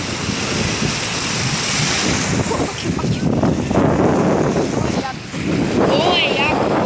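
Sea waves breaking and washing ashore under strong gusting wind buffeting the microphone, loud and close, with brief dips as gusts ease.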